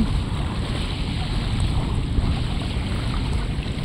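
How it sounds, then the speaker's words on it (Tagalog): Surf washes along the shore at Dolomite Beach as a steady, broad rushing roar, with strong wind buffeting the microphone throughout and no clear individual wave breaks. "Ayan yung ating dalampasigan."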